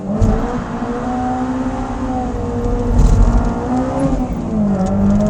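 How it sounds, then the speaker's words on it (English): A Honda S2000 AP2 sports car launching hard in cold weather, its engine note climbing steadily as it accelerates, heard from inside the cabin, loud and continuous with a slight dip and rise in pitch toward the end. "So you got to be a little bit more aggressive when you launch this car."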